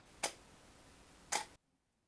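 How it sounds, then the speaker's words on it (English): Canon 5DS R camera mirror flipping up, then about a second later the shutter firing: two sharp, close mechanical clicks in quiet surroundings, followed by silence. "you're going to see the mirror go up. We're going to wait 1 second, then the shutter is going to actually fire."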